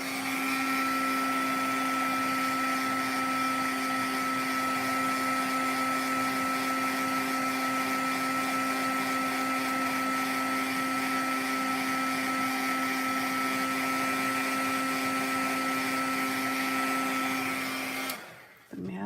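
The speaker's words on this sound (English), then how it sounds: "it's going to get just a little bit noisy while I heat emboss this" A heat gun used for heat embossing blows a loud, steady, close whine and hum for the whole stretch, then cuts off sharply near the end.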